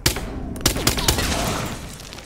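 Several sharp gunshots in the video game Hitman 2 crack through a breakable object, arriving as a loud, irregular burst of closely spaced reports with debris clatter between them.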